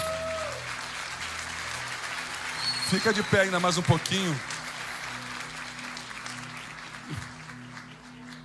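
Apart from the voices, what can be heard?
congregation applauding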